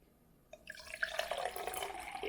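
Water is poured from one glass into a second glass. A faint trickle starts after a short quiet moment and grows into a light, bubbling stream close to the microphone.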